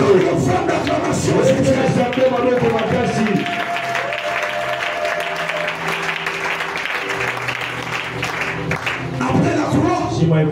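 Crowd applause and cheering at a church gathering, sustained clapping with voices rising together, loud and continuous across the whole stretch, with a voice over the clapping at the start and end.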